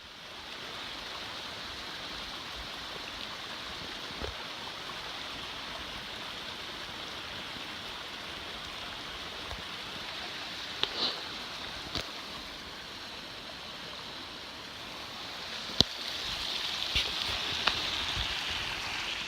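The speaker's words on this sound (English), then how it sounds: "There's a waterfall over here." A waterfall beside a river on the John Muir Trail roars as a steady, broadband rush throughout, continuous and fairly loud with no talking.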